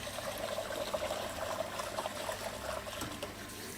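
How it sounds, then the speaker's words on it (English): Water runs and sloshes steadily while rice is being washed in a kitchen, a faint continuous trickle and splash with a brief clatter near the end. "How many pour-outs do you gals normally do when you wash rice?"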